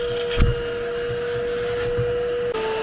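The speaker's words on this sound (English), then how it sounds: "Gotta suck up all the wetness out of this with the wet vac" A wet vac steadily sucking water out of a Honda Civic's soaked, ruined interior, a continuous close motor whine with a steady high tone and a couple of brief bumps, no talking.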